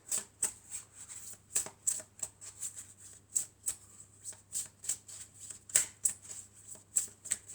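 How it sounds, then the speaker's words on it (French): Oracle cards being shuffled by hand at close range, a quick run of crisp papery riffles and slaps that repeats in a steady, uneven rhythm, with no talking. "on va prendre une carte, plusieurs cartes de mon oracle"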